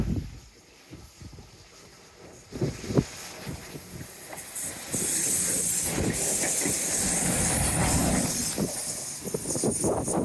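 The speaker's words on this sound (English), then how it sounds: "Here we go, possibly the last train of the day." A train runs past on a seaside railway line near a seawall, starting faint and building to a loud, steady rush with hissing and rolling wheel noise through the second half.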